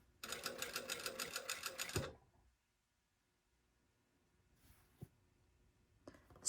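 A sewing machine stitches a short top-stitching run at the revere notch of a garment, its rapid even needle pulses lasting about two seconds, followed by near silence with a few faint clicks.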